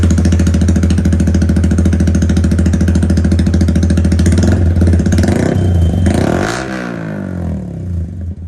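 A Yamaha R15 v3 motorcycle fitted with an Akrapovic exhaust runs close by with a loud, rapid, pulsing idle, then blips and revs briefly before settling lower.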